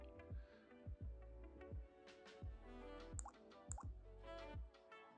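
A Dreamcast startup chime playing from an Anbernic RG35XX Plus handheld: a series of soft, watery plopping tones in a steady rhythm, faint and close, with nobody talking.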